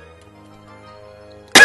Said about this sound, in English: Didn't mean to cough